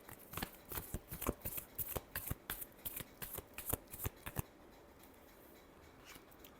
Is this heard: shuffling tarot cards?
yes